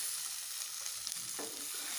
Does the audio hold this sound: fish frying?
yes